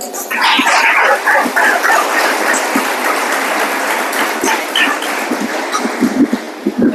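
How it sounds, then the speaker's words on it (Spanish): A church congregation applauds during a sermon, a dense, steady wash of clapping that holds at an even, fairly loud level throughout, with a few sharper hand claps standing out near the end. "Dale un aplauso."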